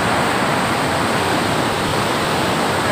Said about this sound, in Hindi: नीचे से पानी ऐसा आ रहा है धुआं धुआं